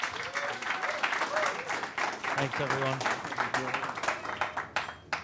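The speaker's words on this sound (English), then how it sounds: "So one more round of applause." An audience at a filmmakers' talk gives a round of applause, with steady, moderately loud clapping through most of the clip as someone speaks briefly over it.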